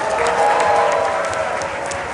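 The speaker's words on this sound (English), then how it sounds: "Give yourself a round of applause." A crowd of sports fans at a fan festival gives a round of applause, a loud, dense, even wash of clapping with some cheering voices underneath.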